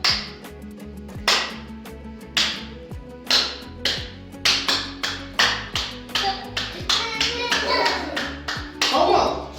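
A teacher claps in rhythm while preschool children beat sticks as if whisking milk, giving a quickening run of sharp, close claps and taps with children's voices mixed in.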